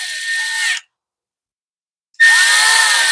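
A power driver whines as it tightens screws on a Craftsman weed eater carburetor, two loud close bursts separated by a short silence.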